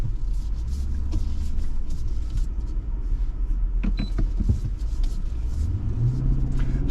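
2024 Infiniti QX80 with a V8 engine during a K-turn: a steady low engine rumble throughout with some faint clicks and shifts as the car maneuvers, near and continuous, with no talk.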